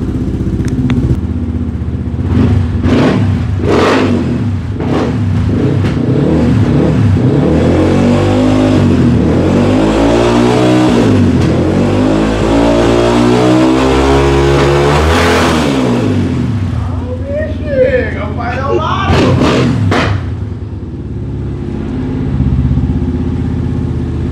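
A Yamaha FZ 250 motorcycle, cold and newly started, warms up and revs from a close, loud idle, its pitch sweeping up and down through long throttle blips with sharp exhaust pops near the end.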